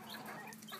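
Chickens cluck softly in a farmyard pen by a fence, a few low, scattered clucks at a faint level, heard from nearby.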